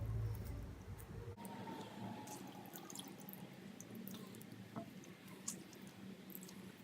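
Soaked urad dal dumplings for dahi bhalle are pressed between the palms, letting water drip and squish out steadily at close range with no talking.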